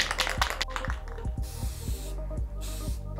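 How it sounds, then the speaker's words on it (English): A spray can applies matte black paint to a chair in long hissing bursts separated by brief pauses, with steady rhythmic background music underneath. "I've completed the spray painting portion of this chair"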